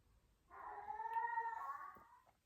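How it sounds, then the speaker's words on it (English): A pet cat lets out one long, drawn-out meow that rises and holds before trailing off, close and fairly clear over a faint low background hum. "I find her meow very distressing"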